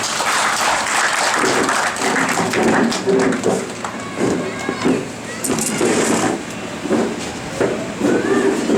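Loud applause from an audience at a gathering welcoming a guest, a burst of clapping mixed with crowd noise and voices talking over it.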